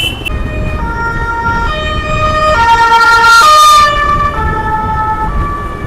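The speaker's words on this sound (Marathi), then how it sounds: "दिसतंय तिकडे फायर ब्रिगेड एवढं तिथे सायरन देते" A fire brigade truck's wailing siren sounds loud and close in city traffic, its tones rising and falling over a steady rumble of road vehicles.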